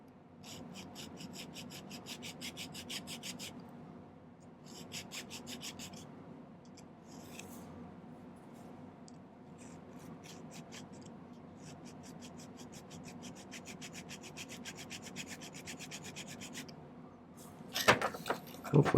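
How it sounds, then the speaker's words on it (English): A metal file rasps against silver wire in a series of quick, quiet rhythmic strokes, close and faint, with a few pauses and a louder clatter near the end. "But then I'm going to angle this while I'm filing."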